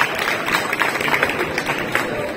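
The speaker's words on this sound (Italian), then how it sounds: "facciamo un altro applauso" An audience at an outdoor Christmas show in Forio applauds Ivano Breccia, with loud, dense clapping and a crowd murmur running steadily through the short stretch.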